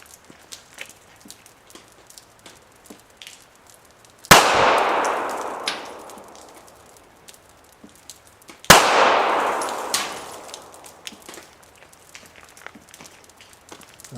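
Two loud, sharp shots from a Walther PPK .380 ACP pistol firing Corbon ammunition, a few seconds apart, each followed by a long reverberant decay, with faint rustling and handling noises in between.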